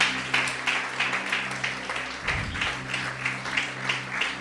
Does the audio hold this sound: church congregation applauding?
yes